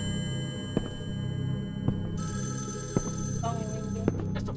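A telephone rings inside the horror video game Evil Inside, a steady electronic tone with repeated faint clicks over a low background hum, fairly quiet and without talk.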